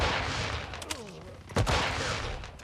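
Switchblade X9 submachine gun fire in Call of Duty Mobile, bursts of shots amid explosions and layered game effects, with a faint voice in the mix.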